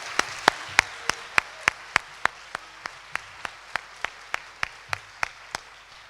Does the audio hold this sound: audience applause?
yes